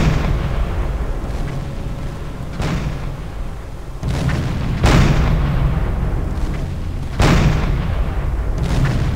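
Deck gun fire from a submarine in Silent Hunter 4 hammers an enemy vessel: loud, close cannon blasts at irregular intervals, each a sharp crack with a rolling boom over a steady engine and sea rumble.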